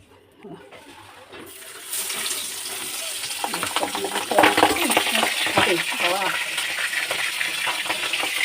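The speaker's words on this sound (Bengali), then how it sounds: "তেল গরম হয়ে গেছে মাছটা দিয়ে দেবো" Fish roe goes into hot oil: a crackling sizzle swells after a couple of seconds and stays loud and close, with bursts of spattering.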